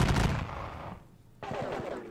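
Line infantry in the Napoleonic Battles Leipzig wargame loose a musket volley, a loud crackling burst of gunfire that dies away, then a second ragged volley crackles out after a brief lull.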